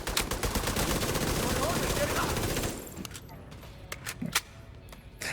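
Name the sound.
gunfire in a video game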